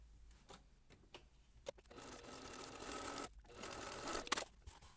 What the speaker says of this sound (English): now I will sew from this side